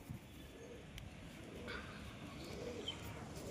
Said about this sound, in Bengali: অসাধারণ কবুতর, কবুতরের গেট আপ দেখো কেমন কবুতর আছে।